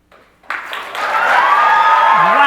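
A crowd cheers loudly in a large meeting hall, the roar swelling after a brief opening burst and holding steady with overlapping shouts and whoops; a single voice rises briefly near the end.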